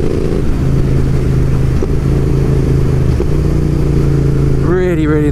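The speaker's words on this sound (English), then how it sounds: "It's like a proper blat with a little bit of pop and spit on the diesel." A Royal Enfield Interceptor 650 motorcycle engine rumbles steadily up close, a loud low exhaust drone with slight pitch shifts while riding, with brief talk at the very end.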